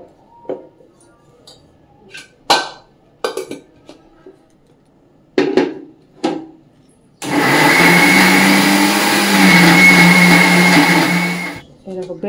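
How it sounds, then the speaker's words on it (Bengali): An electric kitchen mixer grinds bread into crumbs. It starts after a few seconds of handling clatter and runs as a loud, steady, close whir for about four seconds before stopping. "প্রথমে আমরা মিক্সারের বাটি নিয়ে নিয়েছি, এর মধ্যে কিন্তু ব্রেডগুলো একটুখানি গুঁড়ো করে নেবো"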